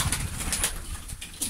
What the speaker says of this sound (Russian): Голуби есть и гоненые, и не гоненые здесь.